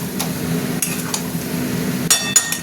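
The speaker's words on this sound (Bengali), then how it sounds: "সবজিগুলো দিয়ে কষা করবো, মানে মশলাটা নাড়বো আর কি" A spoon stirs masala and vegetables, ridge gourd and pointed gourd for a shrimp curry, in a pan. Scattered metallic scrapes and clinks sound over a steady low sizzle, with a quick pair near the end.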